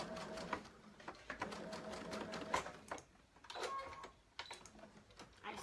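A sewing machine runs in short, stop-start bursts while sewing a shark tail blanket for kids, quiet and close with pauses between stitching runs; faint household sounds around it.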